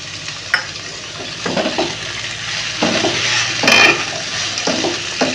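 Brinjal and chopped green chili stirred in a hot pan, with repeated scraping strokes of the spatula over a continuous sizzle, close and clear with no talk.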